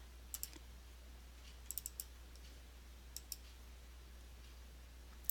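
Several soft, dry clicks of a computer mouse sending a task, scattered singly and in small clusters over a quiet background hiss.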